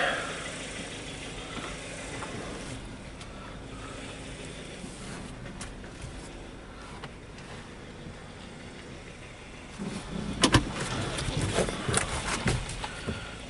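A 2016 Kia Sportage LX AWD with a 2.4-litre 16-valve engine idles with a low steady hum while being parked, and its sound grows rougher and louder near the end.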